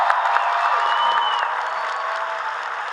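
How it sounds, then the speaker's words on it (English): A convention panel audience claps for the ASL interpreters, a dense, sustained round of applause heard from within the hall, steady throughout with a few scattered cheers mixed in. "can we give a big round of applause for our ASL interpreters down here?"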